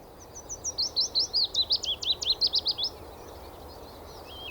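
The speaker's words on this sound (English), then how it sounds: "A willow warbler." A male willow warbler sings a single clear, descending phrase of about a dozen sweet, rhythmic notes, close and distinct, followed by quiet outdoor ambience.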